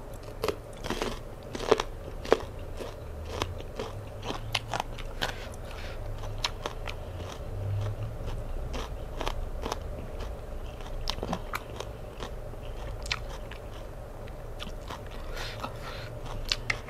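Close, steady chewing and crunching of Thai som tam papaya salad, with repeated crisp bites and moist mastication throughout and no talking.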